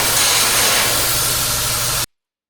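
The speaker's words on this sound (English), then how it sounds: "the torch ended up being a better tool to get this crack gouged out" A cutting torch gouging a crack out of a steel skid steer mulcher part roars with a loud, steady, broadband hiss that cuts off abruptly after two seconds.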